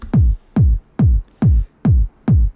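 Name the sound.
kick drum sample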